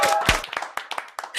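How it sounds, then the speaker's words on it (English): Several people clap in a brief scattered burst of sharp irregular claps, partly under people talking nearby. "Wait, who's clapping?"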